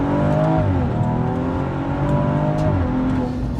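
BMW M135 with minimal mods pulling hard down a drag strip, loud sustained engine note with rising harmonics through a gear change, continuous and close.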